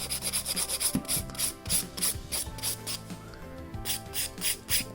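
Rhythmic back-and-forth filing strokes refine an acrylic gel nail, about nine quick rasping passes in a steady beat, close and fairly loud, with no talking.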